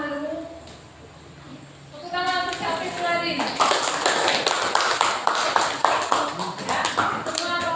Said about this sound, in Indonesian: Tepuk tangan untuk siapa lagi?